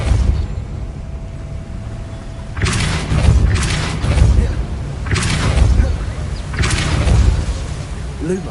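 Depulso spell bursts in Hogwarts Legacy, a series of heavy booming blasts roughly every second or so, loud and close over a low rumbling background.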